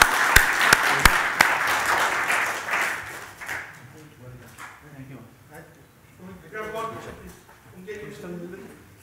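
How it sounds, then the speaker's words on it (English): Applause from an award ceremony audience opens with a few sharp claps and a brief burst of clapping, then fades as someone speaks over a microphone for the rest. "can we have a big round of applause?"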